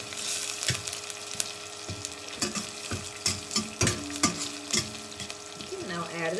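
Green chilies, asafoetida and curry leaves frying in hot oil for an okra onion curry, a close crackling sizzle broken by repeated sharp spoon scrapes and taps against the pan.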